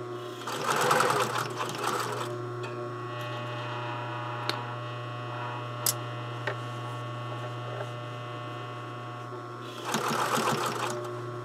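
A sewing machine stitches a sleeve in two short, close bursts of rapid stitching, one at the start and one at the end, with a steady electrical hum between them and no talking.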